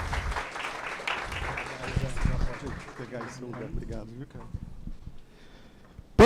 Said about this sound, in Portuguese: Palmas para o Bruno, por favor, gente.